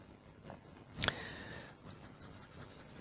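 A quick scratchy stroke of pencil shading on paper with easing pressure, one short burst of graphite scraping, then quiet rustle.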